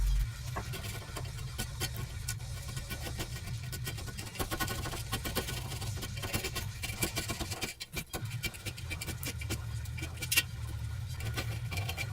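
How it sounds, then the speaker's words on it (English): A scraper works dried liquid nail construction adhesive off a length of steel angle iron during a 5.3 LS engine swap on an S14, making a continuous, close, rapid scratching and rasping with small ticking bursts and no talk. "It has a bunch of liquid nail stuck to it, so I'm just going to scrape this off, get this all cleaned up."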